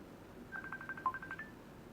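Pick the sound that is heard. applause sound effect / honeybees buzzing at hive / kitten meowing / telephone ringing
telephone ringing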